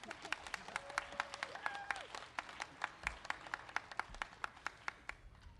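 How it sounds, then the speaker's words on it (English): A rally crowd of autism advocates supporting SB 946 applauds speaker Ruben Ramirez with faint, distant clapping: sparse, evenly spaced handclaps with a few brief tonal sounds mixed in. "Let's give him a big round of applause."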